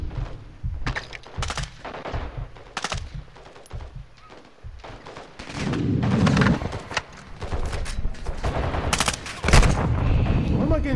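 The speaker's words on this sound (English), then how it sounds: "Can't even see where I'm getting shot from." Rapid bursts of automatic and single-shot gunfire in Call of Duty: Modern Warfare II, loud and repeated in irregular volleys, with booming impacts and a voice talking between shots.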